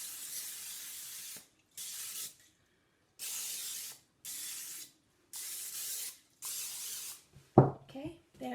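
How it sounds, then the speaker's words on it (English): Repeated short bursts of aerosol cooking oil spray hissing onto a pan, about six sprays with brief pauses between, followed by a clatter at the end. "I need to spray my pan. And I'm using just a aerosol oil spray"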